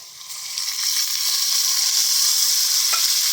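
Liquid made with black tamarind poured into a hot pan for a spicy side curry, bursting into a loud, steady sizzle that swells after the first second and holds, with a faint scrape near the end.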